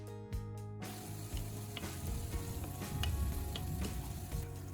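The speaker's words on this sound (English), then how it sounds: "add the carrots and corn first and stir continuously until they are just cooked through" Carrots and corn sizzling in hot oil in a pan while being stirred, with a steady close crackle and occasional ticking scrapes of the utensil.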